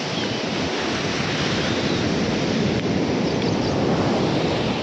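Steady wash of surf on ECR beach near Chennai, a continuous broadband roar of breaking waves with wind buffeting the microphone, no voices.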